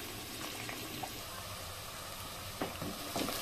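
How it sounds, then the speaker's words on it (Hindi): Onions frying in a pan for Hyderabadi methi gosht, a soft, steady sizzle with occasional brief bursts of louder crackle near the end. "प्याज डाल दूंगी, प्याज को थोड़ा सा भून लेना है"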